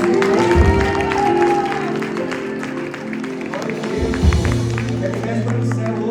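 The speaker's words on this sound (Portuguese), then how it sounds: "Dá uma salva de palmas." A church congregation breaks into applause during a worship service, clapping steadily for several seconds beneath sustained music and speaking voices.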